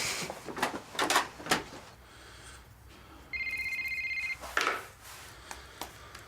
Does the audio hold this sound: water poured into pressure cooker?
no